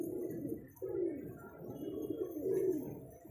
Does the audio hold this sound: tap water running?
no